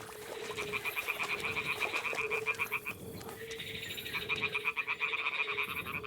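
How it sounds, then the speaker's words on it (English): Toads croak in the video game Kingdom Come: Deliverance II, a steady chorus of rapid pulsing trills in two long overlapping bursts over a low, constant ambient hum. "Ah, the toads are croaking here."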